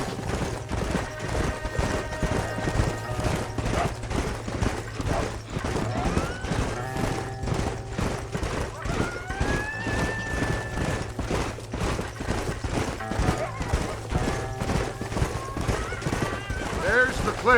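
Hooves clatter in a fast, rapid galloping rhythm throughout in Red Dead Redemption, with horses neighing and whinnying over a low rumble; voices shout briefly.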